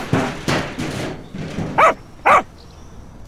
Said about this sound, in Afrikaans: En die hond het in die asblik gegaan.